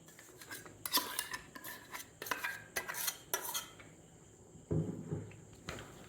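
A spoon scrapes and clatters against a large metal vessel while ground rice, urad dal and poha are mixed into dosa batter, giving close, irregular rasping strokes and clinks with short pauses.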